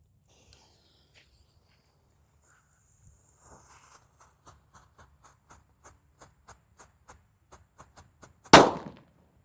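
A red disco happy flower firecracker sputters with a run of evenly spaced small pops that speed up and grow louder, ending in one sharp, loud bang at close range outdoors.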